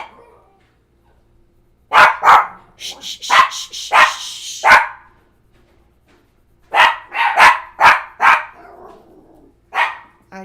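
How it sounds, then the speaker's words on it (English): Dogs bark in a burst of sharp, loud barks, pause, then bark again in another quick cluster, with a few scattered yips in between. "If they hear one of the other dogs barking outside"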